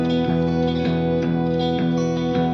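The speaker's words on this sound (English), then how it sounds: "For the final guitar layer, I added this really cool bend." An electric guitar, played through a Guitar Rig Chicago Blues Lead preset, holds a sustained, distorted bent note with a soft rhythmic pulse, loud and alone in a dark melody layer.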